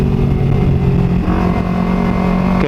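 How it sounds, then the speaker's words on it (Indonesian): A Kawasaki Ninja 250 FI motorcycle fitted with a short CLD Monster carbon exhaust, its engine droning loud and close with a steady raspy tone and a slight shift in pitch midway, no talking. "knalpot gue pakai CLD yang karbon, CLD Monster. Suaranya emang lumayan berisik karena dia karakter silencernya pendek."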